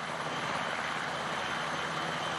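A military helicopter during a Belgian army commando exercise in Tournai gives a steady, dense rotor and engine roar, loud and unbroken throughout, with no talking.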